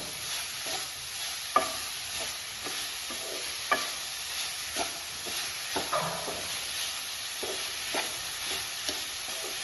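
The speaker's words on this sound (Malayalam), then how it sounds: "പഞ്ചസാരയും തേങ്ങയും എല്ലാം ഒന്ന് രണ്ടും ഇതും എല്ലാം മിക്സാക്കി ഒന്ന് വറുത്തെടുക്കാം" Grated coconut and sugar roast together in a pan with a continuous soft sizzle, broken by repeated scraping and stirring strokes and an occasional sharp clink of the utensil.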